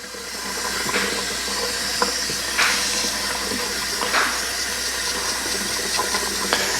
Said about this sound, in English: you really want to be rinsing and just keep the water going.